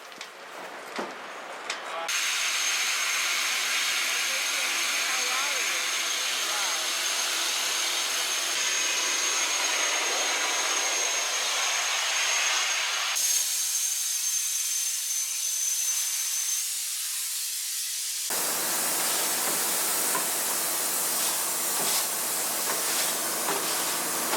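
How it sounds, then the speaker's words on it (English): Sandblasting of a steel boat hull, a loud continuous broadband hiss and roar that changes in intensity and character as the blast nozzle moves, with no talk over it. "So the sandblasters have arrived"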